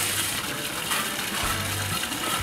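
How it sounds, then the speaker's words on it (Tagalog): Water gushes steadily into a bucket to soak a batch of oats for horses, a continuous close splashing pour with no voices over it. "So, meron tayong timba. Ilalagyan natin ng tubig."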